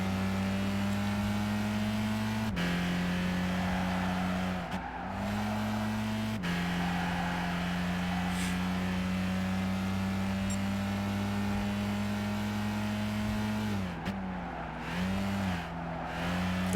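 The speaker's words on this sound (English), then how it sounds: "Now we are spinning the front tires on this thing like crazy." A front-wheel-drive race car in Gran Turismo 5 holds a steady high engine drone while its front tires spin and squeal, with a few abrupt gear-change dips and revs, loud and continuous with no talk.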